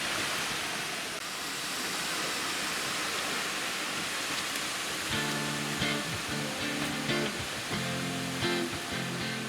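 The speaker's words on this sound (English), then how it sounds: "we are in a spot where we can see the waterfall" A continuous hiss of a waterfall at Roscoe Bay, British Columbia, fills the scene, steady and broad, with some tonal rattling and clunks joining partway through.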